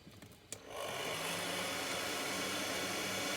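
A fan producing a gentle breeze for a home 4D cinema effect, heard as a steady, even broadband whoosh that starts after a short click and then holds at constant loudness, close and continuous.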